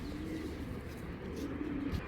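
Giribaj pigeons at a breeder's farm coo softly and continuously, with low murmuring calls repeating through the clip close by.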